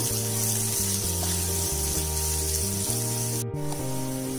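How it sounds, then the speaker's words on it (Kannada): Chopped onion frying in a pan until brown for chicken tikka masala: a steady, close hissing sizzle running throughout, with a tonal music bed underneath. "ಸ್ವಲ್ಪ ಬ್ರೌನ್ ಆಗೋವರೆಗೂ ಹುರ್ಕೋಬೇಕು ಈರುಳ್ಳಿನ"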